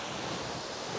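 Sea waves surge onto the shore at a fishing spot in Songjeong, a continuous broadband wash of surf with wind roar, loud and unbroken, with no voices.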